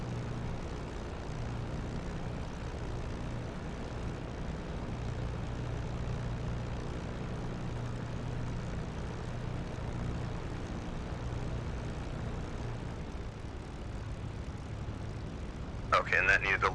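A P-51D Mustang's piston engine idles at reduced RPM in the DCS flight simulator, a steady, even propeller drone with a low rumbling hum that holds constant throughout, ending with a brief click.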